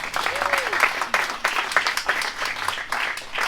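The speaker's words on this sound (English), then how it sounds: "So again, another round of applause for Chris McDonald." An audience claps for a race winner at a stand-up paddleboard foundation launch, a steady wash of applause with a voice talking over it.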